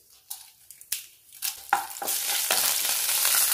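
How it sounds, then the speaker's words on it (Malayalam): Mustard seeds and dried red chillies hit hot oil in a pan, first a few scattered pops and crackles, then a steady loud sizzle as the frying takes hold. "ചൂടായ എണ്ണയിലേക്ക് കടുക് ചേർക്കാം. നമുക്കതിലേക്ക് രണ്ട് വറ്റൽമുളക് ഇട്ട് കൊടുക്കാം."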